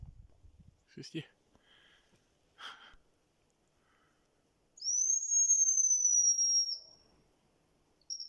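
A hunter's whistle imitates the call of a hazel grouse in a taiga forest in Komi, a single thin, high, drawn-out tone lasting about two seconds in near silence after a few faint sounds.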